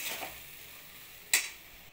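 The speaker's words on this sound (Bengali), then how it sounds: "এবার নেড়ে চেড়ে আবার রেখে চাপা দিয়ে দেবো।" A spoon stirs spring onion curry in a pan, a soft sizzle with a couple of scraping strokes and one sharp clink of utensil on metal, close and fairly quiet, no talking.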